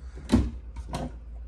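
A drawer in a new travel trailer kitchen slides open and shut nearby, a soft rumbling slide followed by two quick thuds as it closes.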